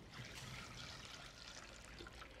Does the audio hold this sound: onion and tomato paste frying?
no